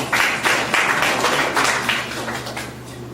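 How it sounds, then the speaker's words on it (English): An audience at an iOS developer meetup claps in a sustained round of applause, many hands together, loud and close, easing slightly toward the end over a low steady hum in the room. "So big applause to IDA."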